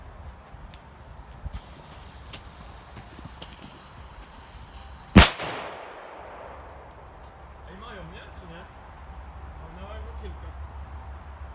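A Mephisto firecracker set off in sand gives a single sharp, loud bang after a quiet outdoor stretch, followed by a muffled settling rumble and faint voices.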